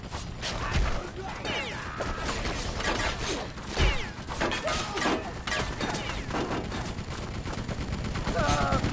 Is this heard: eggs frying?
no